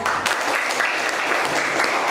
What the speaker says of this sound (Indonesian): berikanlah tepuk tangan kepada kelompok 2